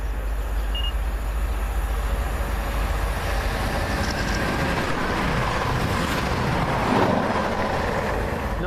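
Up passenger service from London Euston to Birmingham New Street passing close by: a steady rumble of wheels and carriages with faint rhythmic clatter, continuous throughout and swelling slightly near the end.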